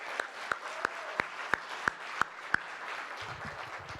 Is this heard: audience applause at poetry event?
yes